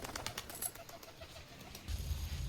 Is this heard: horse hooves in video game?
no